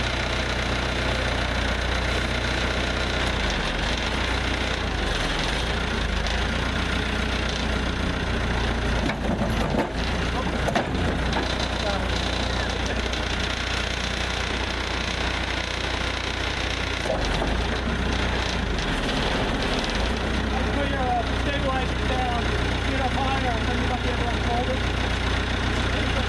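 The diesel engine of a 1959 Warner-Swasey Hopto backhoe idles with a steady, rumbling drone and faint knocking throughout, loud and close, with no clear voices.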